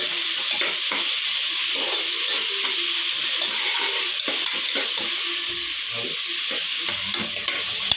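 Tomato, onion and green chilli cook in a pan for tomato rice, giving a steady close sizzle and fry with stirring scrapes and light clinks throughout, and no talking.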